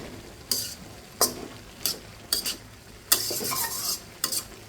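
A spoon scrapes and stirs red lentils with ash gourd peel and potato in a pan, several distinct scraping strokes at an irregular rhythm over a soft background sizzle, close and fairly quiet with no talking.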